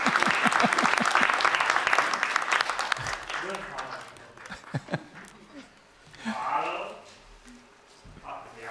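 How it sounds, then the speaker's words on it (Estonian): Audience applause at a national student inventors' award gala: dense, loud clapping that fades after a few seconds, then scattered voices and a second short swell of clapping and chatter. "Veel kord suur aplaus teile."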